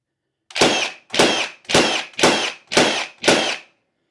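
A Westinghouse battery pressure washer in rapid fire mode gives six loud, evenly spaced bursts of spray, each about half a second, with clean silence between them.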